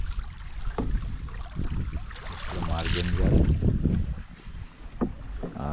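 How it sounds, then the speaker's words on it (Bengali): Boat moving along the upper river stream at Gajoldoba, with steady water wash and wind noise around the hull, close by, while people talk briefly over it. "আরো নৌকা যাচ্ছে আমাদের সঙ্গে।"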